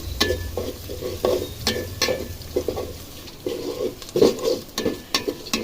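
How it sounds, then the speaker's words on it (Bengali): Lentils, onion, whole garam masala and bay leaves being dry-fried in a pot for bhuna khichuri, with repeated scraping stirs over a steady low sizzle, close and moderately loud. "ডাল পেঁয়াজ গরম মশলা তেজপাতা এগুলো আগে ভুনে নিচ্ছি"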